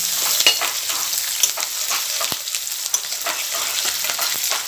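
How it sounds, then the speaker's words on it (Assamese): Steady hiss of onions frying in hot oil, with scraping clicks of a spoon stirring through the pan at irregular intervals. "পিঁয়াজটো অকণমান ইয়াত লাৰি দিছোঁ"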